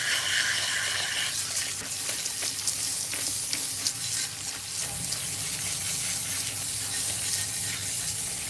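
Water runs steadily over a mature woman's hair as it is rinsed at a salon sink, a close hissing splatter that shifts in texture after the first second and continues unbroken, with no talk.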